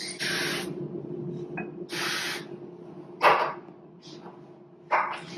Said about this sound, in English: Now we're going to spray the ramekin so the egg yolks don't